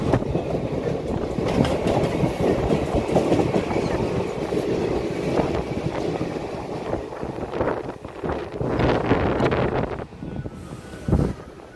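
A train rushes past close by at a railway station with a loud, continuous roar and rattle of wagons. Rushing wind surges through it before the noise dips and a final burst comes near the end.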